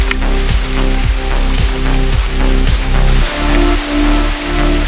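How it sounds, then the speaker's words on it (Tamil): Heavy rain falls outdoors in Kanyakumari, a steady dense hiss of drops spread evenly across the whole stretch, with a low droning hum underneath and no voices. "மழையும் நல்லா பெஞ்சிட்டு இருக்கு."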